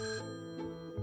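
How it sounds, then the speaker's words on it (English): A telephone rings with a sustained electronic bell tone, brief bursts close and clear, alone without talk. "So I called Gene up on the phone."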